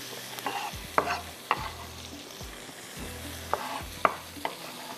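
Sliced onions frying in hot oil with whole green and black cardamom and fennel seeds for a potato and pea pulao, a steady close sizzle broken by several sharp scraping stirs of the pan.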